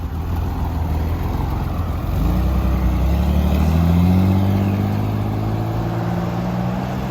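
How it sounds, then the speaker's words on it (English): A replica Ferrari, freshly aligned, pulls away as someone else drives it; the engine note swells and rises in pitch as it accelerates past at close range, then holds a steady drone with no talk over it. "The first time I'm seeing this car being driven by someone else."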